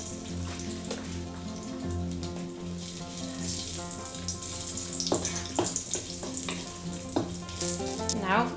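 Pork fat frying in a pan, a dense continuous sizzle with popping crackles and spits growing livelier toward the end, heard up close with no voices.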